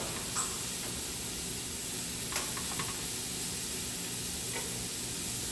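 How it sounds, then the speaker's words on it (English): A pound of ground meat browns in a pot with a continuous soft sizzle and hiss, dotted with occasional faint ticks and pops, steady and moderately quiet with no one talking. "I'm going to put 1 pound of ground meat. And we're going to get that browned up."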